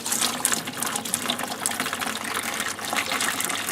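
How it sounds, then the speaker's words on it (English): Tap water gushes into a 15 litre plastic bucket, a steady bright splashing rush close by that keeps going throughout, with no talking. "open up the tap into the bucket"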